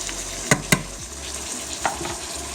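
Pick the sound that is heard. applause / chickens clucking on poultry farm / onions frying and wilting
onions frying and wilting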